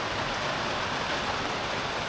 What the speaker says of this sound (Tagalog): Biglang buhos ng ulan.